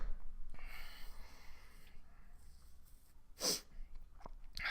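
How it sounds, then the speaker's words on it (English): One sneeze bursts out late in a quiet stretch, faint and close, surrounded by soft breathing and small mouth noises. "I'm gonna sneeze again."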